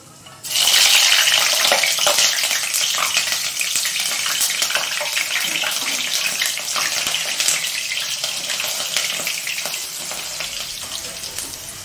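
Green chillies and curry leaves drop into hot oil and set off a loud burst of sizzling that continues as a dense, steady hiss with scattered crackles.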